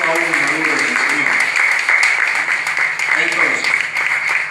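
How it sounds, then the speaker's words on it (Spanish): A church congregation applauding during a sermon on spiritual maturity, dense clapping held at a loud level throughout, with voices calling out over it. "Dale un fuerte aplauso al Señor."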